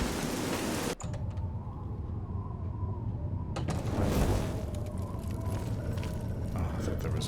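Storm rain in a video game makes a steady, dense broadband wash that runs throughout, briefly thinning near the start, with a voice talking over it.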